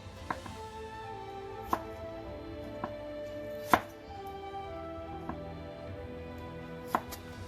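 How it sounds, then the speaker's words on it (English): A knife chops through soaked dried shrimp on a board, about six crisp, separate cuts spaced a second or so apart, close and clear over a low steady background hum. "I'm cutting the dried shrimp because it's two big pieces"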